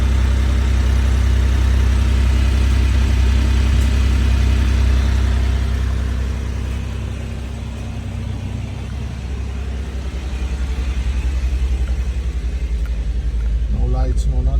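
A 1991 Honda Acty Street engine idles steadily after a cold start, a loud, close, continuous low rumble that dips briefly mid-way before settling back, with a person talking over it.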